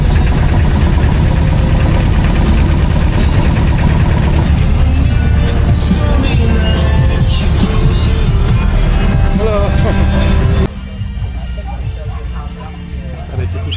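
A boat motor on a Mekong river boat in Vietnam runs steadily with a low, continuous rumble throughout, dropping slightly in level near the end, with voices and background chatter over it.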